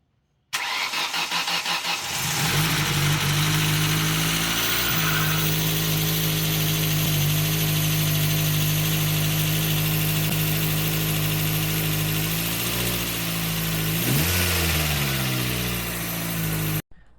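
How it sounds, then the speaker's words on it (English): A 2004 Ford Focus SVT engine cranks on its first start attempt after repairs, then catches and runs at a loud, steady close-up idle with slight revving near the end. "Ignition coil, thermostat, and ready for the first crank attempt."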